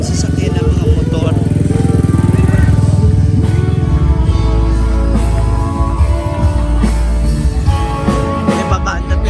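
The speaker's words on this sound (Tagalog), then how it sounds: "ang daming sasakyan ng mga motor" Many motorcycles pass along a road near a river during an Easter Sunday celebration, a loud, continuous drone of several small engines close by, with voices talking over it.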